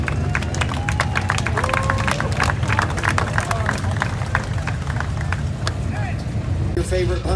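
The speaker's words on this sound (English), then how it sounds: "give them a big round of applause" Outdoor crowd at a Mopar car show and burnout contest at a raceway applauding and cheering, a dense continuous clatter of claps and babble with an engine rumble underneath.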